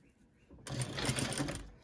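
A sewing machine stitches a fabric face mask closed, starting after a short quiet lead-in with a fast, even mechanical whir and rapid needle chatter, close and steady until the end.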